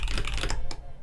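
Rapid, dense typing on a Dolinger custom mechanical keyboard produces a flurry of close, overlapping keystrokes that thin out to a few last clicks.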